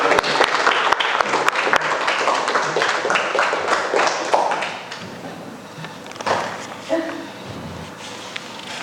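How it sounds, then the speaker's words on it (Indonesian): A group of students in a classroom clapping together, a dense patter of hands for several seconds that fades out, followed by quieter room noise and bumps. "jadi bisa kita beri aplaus kepada kalian"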